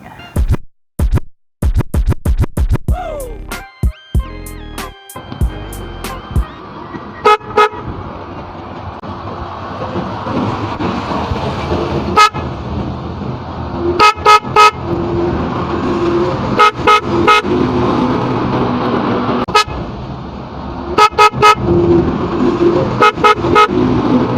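Repeated car horn honks from a loud horn newly wired through a relay, some in quick rapid bursts and others single or doubled, loud and close over a running engine rumble.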